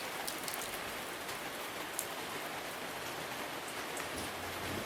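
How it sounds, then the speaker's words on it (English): Steady rain falling outdoors, a dense continuous hiss of drops on surfaces with occasional sharper nearby drips, no voices. "It is raining today."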